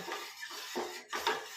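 Ragi malt stirred in a pot on the stove, a few quiet metallic scrapes and knocks of a spoon against the vessel, close and brief, with no talking.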